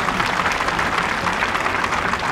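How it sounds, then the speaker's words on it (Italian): An outdoor audience at an Alpini gathering in Asti, where an alpine military brass band is performing, breaks into a brief burst of dense, continuous applause that stays at a steady level throughout. "Ludovica, facciamo un applauso"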